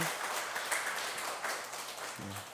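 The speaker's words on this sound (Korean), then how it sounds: "위로의 박수를 하겠습니다." A standing church congregation gives a soft round of consolation applause during a Sunday worship service, a continuous patter of many hands heard faintly and at a distance.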